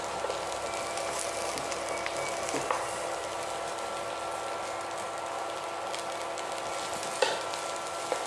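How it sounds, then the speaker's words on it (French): Eggplant cooks in a pan for a Thai red chicken curry, a continuous, even sizzle with occasional faint stirring clicks, close and steady throughout. "je dois faire cuire le aubergine"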